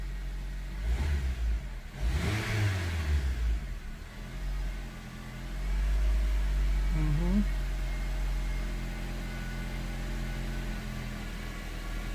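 A 2006 Honda Civic engine idles steadily at about 1000 RPM, then revs sharply up and back down twice, loud and close, with a voice heard faintly.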